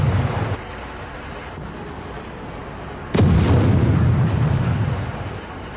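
Heavy blasts from an Israeli attack on houses in Hebron, a deep booming rumble that swells suddenly and lingers loud, following an earlier stretch of lower roar.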